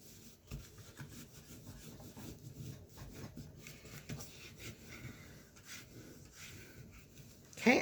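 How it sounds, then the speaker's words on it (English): Folded paper cardstock is burnished flat with a quiet, close rubbing and scraping in short repeated strokes, ending with a louder brief crinkle. "you just want to unfold and burnish that down nicely."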